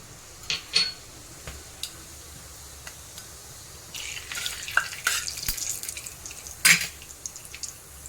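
Sizzling and hissing of cumin seeds frying in hot oil with mustard seeds, with a few scattered pops early on, then a denser sizzle building midway, close and moderately loud.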